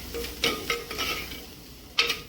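Jackfruit masala with black pepper being stirred in a pan, with a few short scraping clinks of a spoon against the pan over a soft low sizzle.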